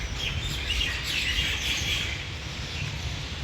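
Faint high chirps and tweets of small birds, sparrows, drift over a soft, steady background hiss, distant and continuous.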